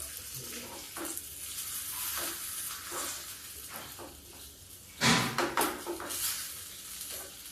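Curry leaves and dried fenugreek leaves (kasuri methi) sizzle in hot oil for kadhi, a steady crackling hiss with stirring scrapes; a louder burst of frying flares up midway, then settles.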